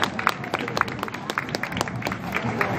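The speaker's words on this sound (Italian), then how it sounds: "Eccola, un applauso signori, Cecilia Gallerani, contessa di Saronno." Scattered outdoor applause from an audience at a historical procession in Saronno, a loose patter of claps under crowd murmur and a voice over a loudspeaker.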